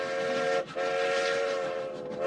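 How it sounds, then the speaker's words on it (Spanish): Steam-era railway train sounding a sustained multi-tone whistle, loud and near, with one brief break before it carries on to the end, no voices. "El ferrocarril fue una de las realidades del reinado de Isabel II"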